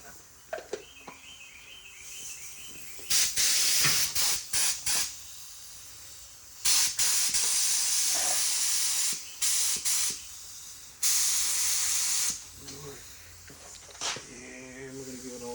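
Spray gun laying a light coat of paint onto a car body during dent and scratch repair, several loud hissing bursts of a few seconds each separated by quieter pauses with faint background sounds.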